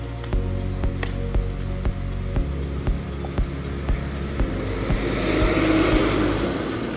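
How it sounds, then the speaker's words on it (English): A tractor engine runs in the background at an outdoor dressage event, a steady low mechanical drone with harmonic hum, interrupted by regular sharp clicks and a rising broadband rush toward the end. "Excuse the tractor in the background."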